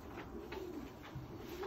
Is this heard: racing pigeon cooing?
yes